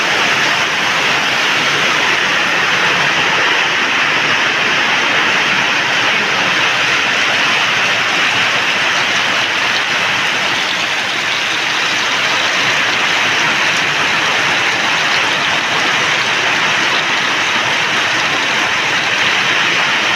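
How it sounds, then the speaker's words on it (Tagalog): Heavy monsoon rain keeps pouring at a home, a constant loud roar of falling water with large drops, steady and unbroken from start to finish. "Lakas ng ulan yan."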